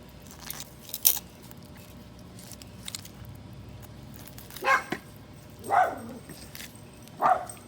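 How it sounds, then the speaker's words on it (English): A dog gives three short, separate barks or yelps at a moderate distance, spaced a second or so apart, over a quiet outdoor background during fish cleaning. "Sorry for the dog."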